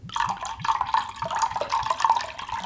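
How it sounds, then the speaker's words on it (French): Water poured in a splashing, bubbling stream close up while preparing artichokes in a kitchen, alone and without talk. "Un peu d'eau et je vais verser"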